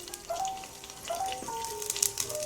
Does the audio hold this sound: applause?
no